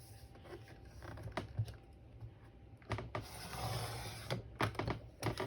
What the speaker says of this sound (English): I will cut it right out of the book